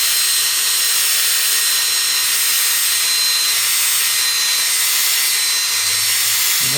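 A PadXpress pad driven by a power tool polishes plexiglass, giving a steady, loud high-pitched whir that runs unbroken throughout with no voices.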